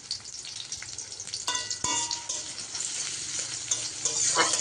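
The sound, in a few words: chopped onions frying in oil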